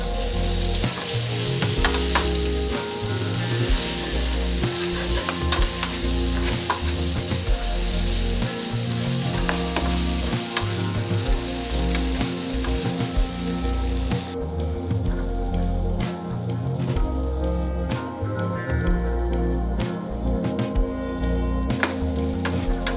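Red chili paste made from ground dried chilies sizzles in hot oil with curry leaves and turmeric for an instant tomato pickle. It makes a loud, steady, close frying hiss with stirring scrapes throughout and no talking.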